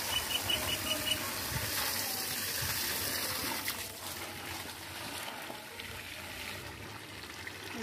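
Water splashes and gushes steadily onto jasmine plants in a garden bed, a close, continuous broadband rush with a few brief louder spurts at the start and no speech.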